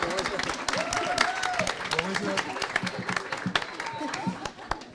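Small group clapping in a casual livestream-style gathering, scattered claps with whoops and voices mixed in, fairly close and lively for a few seconds.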